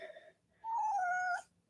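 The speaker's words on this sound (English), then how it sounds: "This is my little kitty." A pet cat gives a single clear, drawn-out meow in a quiet room, close and distinct, preceded by a brief softer vocal sound.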